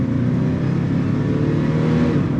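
A 1999 Jeep Cherokee engine revs hard under full throttle in first gear on a downhill run, a loud, steady, rising roar that holds unbroken for the whole stretch with no talk.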